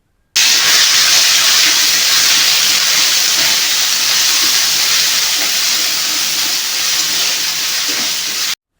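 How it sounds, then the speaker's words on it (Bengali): Ground spice paste frying in a pan with dried red chilli, for a Bengali ridge gourd and potato dish, gives a loud, steady, unbroken sizzling hiss that lasts the whole stretch with no talk. "এবার যে মশলাটা বেটে নেওয়া হয়েছিল সেই মশলাটা দিয়ে ভালো করে ভাজতে হবে"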